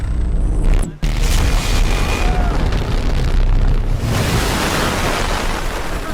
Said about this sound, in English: Must have been an EMP blast.